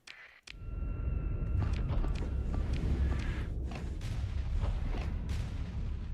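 Ship weapons fire in a Starsector space battle, a loud continuous barrage of booming shots and thuds with a few sharp tonal blasts, starting abruptly after a brief silence and rumbling steadily throughout.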